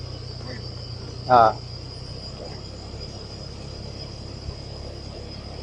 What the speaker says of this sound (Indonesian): seperti suara jangkrik gitu kan,